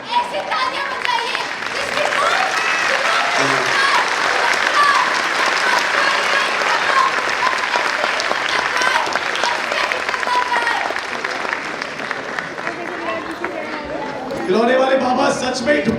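Loud, sustained applause from a large audience fills a school theatre show at St Angel's Public School's silver jubilee, with dense clapping throughout and a slight dip and swell near the end.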